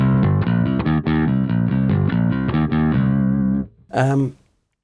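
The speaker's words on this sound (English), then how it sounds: "You notice I've got a little bit of echo as well as the extra bit of distortion" Electric bass played through echo and extra distortion effects, a steady driven line of sustained, overdriven notes that stops abruptly, followed by a short burst of a higher, fuzzy tone echoing away into silence.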